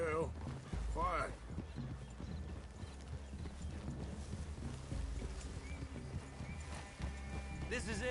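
Horse hooves clip-clop steadily with a whinny near the start, under low talking voices and an ambient background, in the video game Red Dead Redemption 2.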